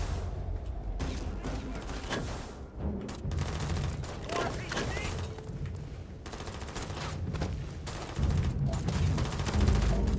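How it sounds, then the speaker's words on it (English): Rapid bursts of gunfire and heavy weapon fire from the video game Starfield crackle almost continuously, with loud layered shots and booms over a dense background. "Who are they still shooting at?"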